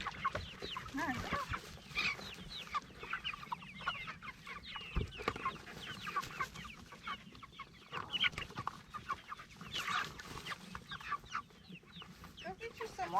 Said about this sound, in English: So these chickens are our largest chickens.